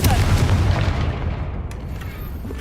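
A Confringo blasting spell explodes in the video game Hogwarts Legacy: a loud, deep boom bursts at once and rumbles away over a couple of seconds, followed by a quieter, fading tail.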